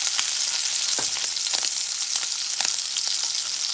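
Shrimp frying in a pan for shrimp fried rice give a loud, dense hiss with scattered pops and crackles as they are turned, close and alone.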